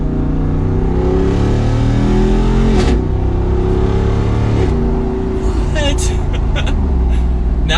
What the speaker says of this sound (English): We're gonna downshift and listen to that V8.